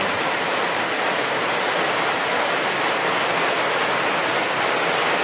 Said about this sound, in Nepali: बबाल बबाल पानी परेको छ आज पनि पानी पर्न लागेको